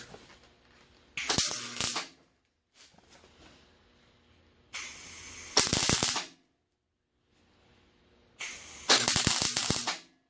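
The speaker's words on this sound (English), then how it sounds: "Give me a couple of tack welds on here." Three separate bursts of tack welding on a steel kiva fireplace screen, each a loud, crackling buzz lasting about a second, with quiet gaps and faint handling noises between them.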